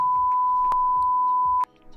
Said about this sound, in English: Can you do it in post, like a beep sound?